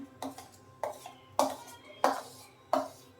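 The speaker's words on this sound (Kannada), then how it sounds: "ಈ ಥರ ಮಿಕ್ಸ್ ಮಾಡಿಕೊಂಡು ಇಷ್ಟಾದರೆ ಸಾಕಾಗುತ್ತೆ" Milkshake ingredients are mixed by hand in a bowl, giving five distinct clinking scrapes of a utensil against the bowl at an even rhythm, fairly quiet with no talk.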